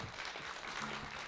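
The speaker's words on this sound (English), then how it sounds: "Give them a round of applause." Applause for two quiz contestants and their quiz master at a live public event with the lieutenant governor, a steady wash of clapping from a crowd held at moderate level through the brief moment.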